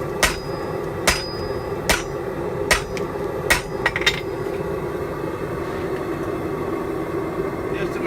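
Light hammer blows on hot steel while forge welding a basket twist: about seven sharp, ringing metallic hits spaced roughly a second apart, over a constant low hum of forge blower noise, then only the hum continues.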